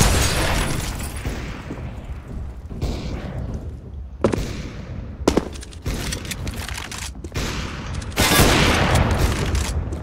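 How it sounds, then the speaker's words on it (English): A grenade goes off during an online shooter match, set amid heavy gunfire: loud, crackling bursts and booms repeat across about ten seconds, with the biggest blast swelling toward the end. "Grenade out!"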